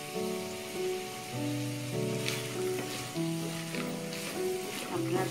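Boiled vegetables go into chicken fried rice made with basmati rice, frying in a pan with a soft, steady sizzle and occasional stirring scrapes, partly buried under a louder melodic music track.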